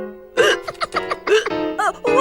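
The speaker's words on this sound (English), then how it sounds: "Oh, I've got to get rid of these hiccups." A cartoon boy hiccups repeatedly in a quick, uneven series of voiced gulps, close and loud, with short pauses between them.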